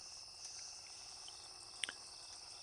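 A steady high-pitched insect buzz drones continuously, fairly faint and even, with a brief sharp chirp partway through.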